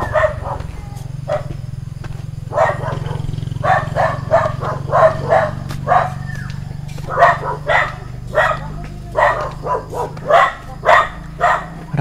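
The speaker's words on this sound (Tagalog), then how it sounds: "Maraming aso." Many dogs bark outdoors in a rural spot, a rapid, overlapping run of sharp barks and yips that grows busier and louder over twelve seconds above a low steady hum.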